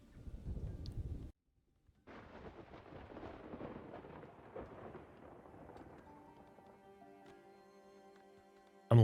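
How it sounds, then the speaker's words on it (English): Rain falls steadily through a thunderstorm in the video game Farthest Frontier, with a low rumbling opening before a short gap, then a continuous soft patter and faint tonal game sounds layered in toward the end. "I'm liking like the storms and shit."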